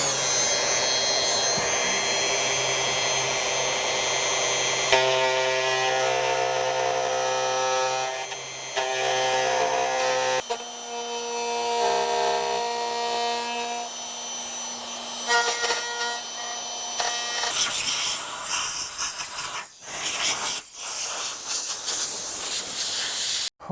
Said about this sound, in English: turn on the router, turn it on a slow speed to start with, and take your time machining this